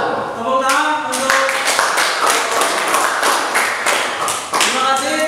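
Classroom audience claps for student presenters after their discussion in a teacher performance assessment, a brisk run of close, sharp hand claps over several seconds with a voice speaking at the start.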